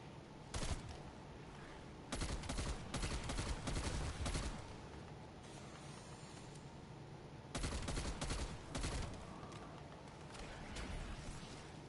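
Gunfire in Call of Duty Cold War Zombies comes in loud, sustained bursts of rapid automatic shots. The volleys are separated by quieter gaps.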